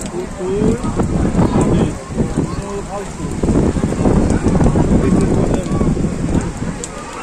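Steady rain falls outdoors in a broad, continuous hiss with scattered drop patter, fairly loud and close, with occasional faint voices and movement mixed in.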